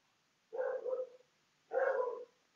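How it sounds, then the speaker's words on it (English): Two bursts of dog barking, somewhat muffled and distant as if from outside, separated by a pause of quiet. "you can hear my dogs barking outside."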